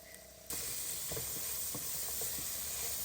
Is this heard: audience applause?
no